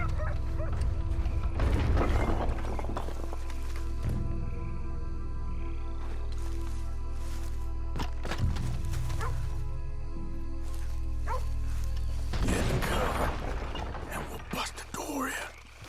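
Dogs barking in the video game Red Dead Redemption 2, with repeated yips and barks mixed into a low ambient hum, and hushed voices talking at times.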